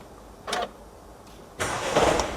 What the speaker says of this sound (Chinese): 我们启动听一下声音啊